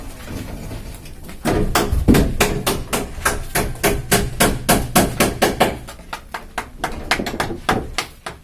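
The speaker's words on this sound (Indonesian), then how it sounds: "Jadi dipaku biar enggak geser." Hammer driving nails into bamboo poles for a floor slab base, a fast run of sharp, close, evenly spaced blows, about twenty strikes in quick succession.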